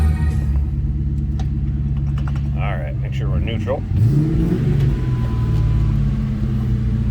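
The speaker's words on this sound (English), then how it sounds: "Nice deep throaty growl of this car, as you can hear." A 1999 Ford Mustang GT with a Borla exhaust idles near the microphone, giving a steady low rumble and growl that keeps going under a short stretch of speech.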